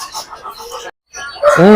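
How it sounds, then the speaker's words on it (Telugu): A large rooster on a farm clucks and calls in short bursts close by, followed by a louder, strained drawn-out cry at the end. "ఈ సైజ్ గల పుంజు గురించి చెప్పండి"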